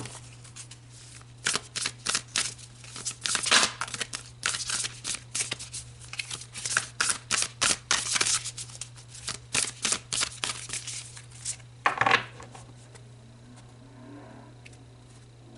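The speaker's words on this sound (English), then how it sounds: "So let's pull some more cards." Tarot cards are shuffled in quick, irregular bursts of soft riffling and slapping, close and quiet over a steady low hum, with a final flurry near the end.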